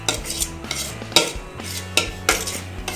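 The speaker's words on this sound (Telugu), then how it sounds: "కొంచెం యాలకులు వేసుకొని బాగా మిక్స్ చేసుకోవాలి." A spoon stirs cooked little millet puttu with cardamom in a pot, giving a regular series of scraping, clinking strokes about every half second, close and clear with no talking.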